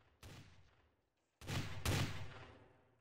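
Gunfire in Garry's Mod Trouble in Terrorist Town: a sharp shot, a pause, then two more close, loud gunshots in quick succession, each trailing off with echo.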